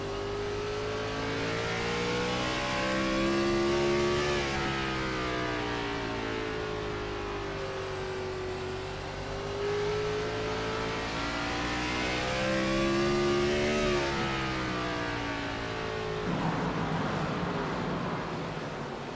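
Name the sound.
IROC race car engine revving at Irwindale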